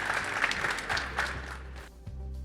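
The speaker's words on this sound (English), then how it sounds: "How about a quick round of applause for our fantastic panel?" A conference audience at CES 2023 applauds a panel with dense, steady clapping that thins out and fades in the last half-second, heard at moderate distance.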